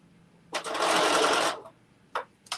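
A sewing machine stitches a bucket hat in one steady one-second burst of rapid needle chatter, followed by two quick short back-stitch bursts, close and clear in a quiet room.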